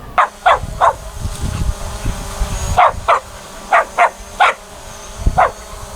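Several dogs bark in short sharp bursts at a flying drone outdoors, a cluster of three barks followed after a pause by a rapid run of five or six more, loud and close against a low background rumble.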